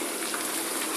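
Steady, dense hiss of rain falling onto a surface, continuous and fairly loud throughout the short stretch.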